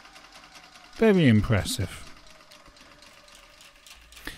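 Bernina Activa 140 sewing machine hums steadily in the background at moderate level, with someone speaking briefly over it and a small click near the end.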